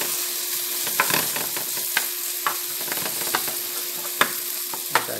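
Food sizzles steadily in a frying pan, a dense continuous hiss with occasional soft knocks of a utensil stirring or flipping, close and fairly loud with no voices over it.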